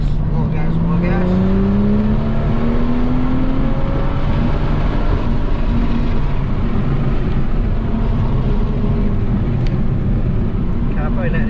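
A BMW M2 accelerates hard on a racetrack, its engine droning loud and steady as it climbs through the revs, with someone talking over the noise from inside the car.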